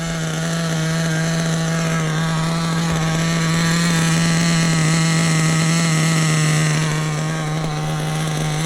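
A Hobao Hyper VS2 nitro RC buggy engine runs continuously during break-in, a loud, close, buzzing high-revving drone with a steady pitch that eases slightly near the end.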